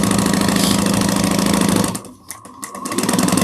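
A sewing machine stitches a bag seam with a steady, loud mechanical whir. It pauses briefly for a back stitch, then starts up again, close up and without talking.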